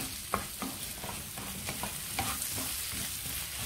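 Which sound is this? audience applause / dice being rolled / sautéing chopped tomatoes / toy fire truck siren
sautéing chopped tomatoes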